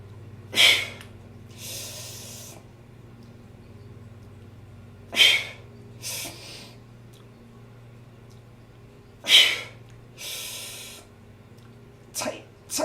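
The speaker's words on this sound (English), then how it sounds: "Inhale through the nose." Sharp nasal inhales through the nose, several short forceful sniffs spaced a few seconds apart, each followed by a softer breathy exhale, close and loud over a low steady hum.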